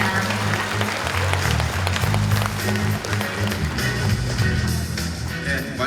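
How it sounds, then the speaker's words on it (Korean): Large audience of Confucian scholars and regional leaders at a national gathering applauds steadily, broad dense clapping with sustained crowd noise and low music or voices underneath, loud and continuous. "여러분 큰 박수 부탁드립니다."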